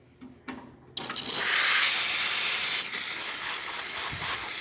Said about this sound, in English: Steam.